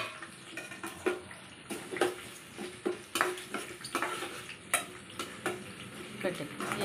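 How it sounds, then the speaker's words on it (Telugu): Spices for a South Indian tempering fry in hot oil in a pan for a jackfruit curry, steady sizzling with repeated scraping stirs of a spoon, close and fairly quiet, no talk. "పోపు వేగిపోయింది అన్నమాట."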